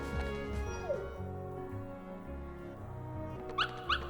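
A puppy in the Kingdom Hearts video game gives a few short yips and whimpers, with high, bright cries near the end over a steady game music backdrop.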